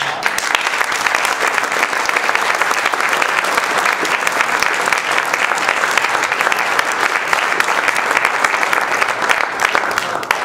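Sustained audience applause fills a high school jazz festival hall, a dense, steady wash of many hands clapping at full volume for the whole stretch, with no voices standing out.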